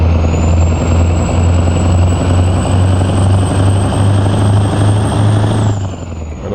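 A heavy truck engine in American Truck Simulator drones steadily and loudly, a deep rumble with a thin whine on top, holding constant before easing off slightly at the end.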